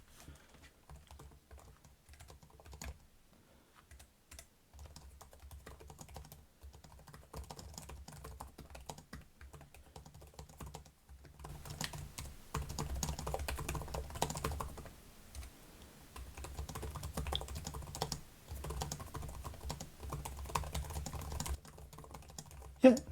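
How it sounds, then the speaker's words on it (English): Fingers type quickly and steadily on a Lenovo ThinkPad P14s Gen 5 laptop keyboard, giving soft, dense clicking close by that grows busier midway and continues without a break. "we'll give it a quick type while we have the keyboard up"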